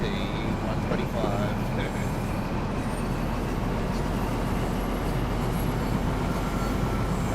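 An HST 125 train in Train Sim World 3 runs with a constant rumbling, rattling drone of wheels and engine, steady throughout with a faint talking voice over it.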